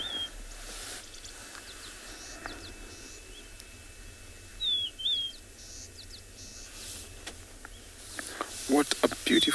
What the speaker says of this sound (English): How cool is that to wake up in the morning with such a melodious song from these birds?